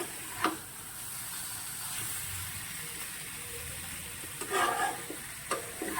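Potato, pointed gourd and prawn curry with spices sautéing in a pan: a steady, soft frying hiss throughout, broken by a few spatula scrapes near the start and toward the end, with no talking.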